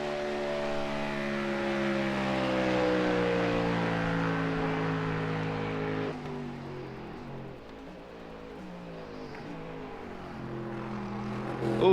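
A GT3 race car engine in a racing video game at Daytona drones steadily with rising harmonics through upshifts, then drops lower and quieter before revving again at the end; no talking.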